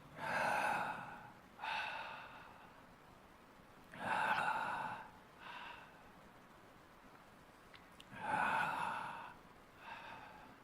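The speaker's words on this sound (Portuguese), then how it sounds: "O som da respiração." Slow, deep human breaths drawn in and let out in a steady cycle, four or five loud breathy swells with quieter pauses between, close and alone with no talking.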